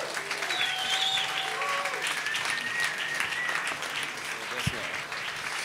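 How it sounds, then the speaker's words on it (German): Audience applause at a live evening event in the MensaBar, a broad sustained wash of clapping lasting several seconds with voices mixed in. "Also nochmal einen herzlichen Applaus."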